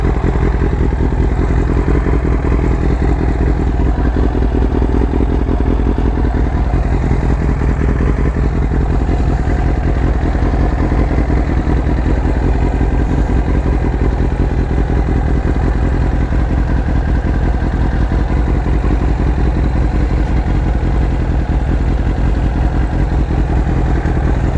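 Motorcycle engine running steadily up close, a continuous loud mid-pitched rumble with mechanical clatter as the bike eases into a tight spot in a crowded motorcycle parking area.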